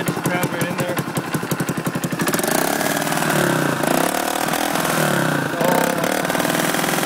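A 1974 Honda XL175 motorcycle engine cold-starts, first with rapid uneven popping, then settling into a loud choked idle with a brief rev, while people talk nearby.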